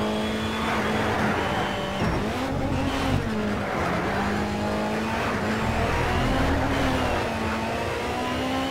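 A race car engine in NFS Shift screams at high revs, bouncing repeatedly off the rev limiter in a stuttering, wavering pitch, loud and continuous with faint tyre and track noise underneath.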